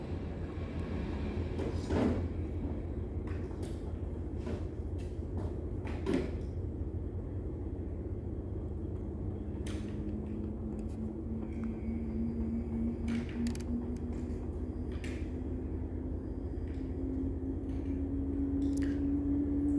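A Samsung washing machine drum spins up as its RPM climbs, a low steady hum with a rising whine that grows louder over time, punctuated by occasional knocks and creaks.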